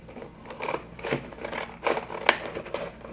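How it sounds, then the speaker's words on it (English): Scissors snip through a plastic folder along its inner seam, giving a run of irregular crunchy cuts and scrapes at close range with no talking. "So I'm just using a pair of scissors to cut the folder."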